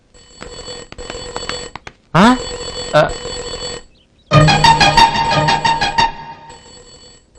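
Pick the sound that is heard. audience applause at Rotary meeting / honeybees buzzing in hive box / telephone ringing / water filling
telephone ringing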